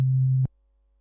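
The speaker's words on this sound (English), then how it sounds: "The sine wave is the most simple type of waveform with no harmonics" A pure synthesizer sine wave with no harmonics holds as a steady, deep low tone for about half a second, then cuts off to silence.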